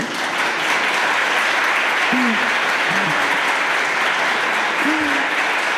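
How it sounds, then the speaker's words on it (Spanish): Steady, dense applause from a live podcast audience fills the space throughout, with a few short voice sounds popping through the clapping. "Te merecías ese aplauso"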